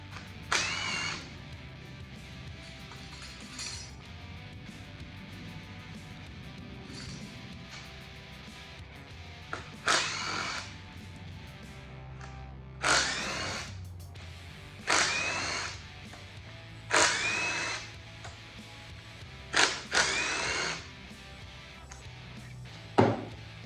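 A power tool loosens the front nut on a GM Gen V L83 5.3-litre V8 in a shop, heard as several short, loud whirring bursts close by, separated by quiet pauses and faint clinks.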